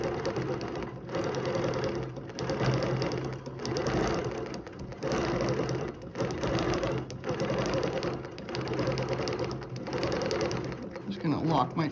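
A sewing machine stitches a fabric mosaic in repeated close bursts of rapid mechanical chatter, pausing briefly between runs as each line is sewn.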